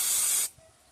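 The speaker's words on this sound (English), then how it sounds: "put a little bit of brake cleaner on the brush" A short, loud hissing burst of brake cleaner aerosol sprayed onto a brush during a thermostat job on a Dodge, Chrysler or Jeep 2.0L/2.4L engine, cutting off abruptly after about half a second to near quiet.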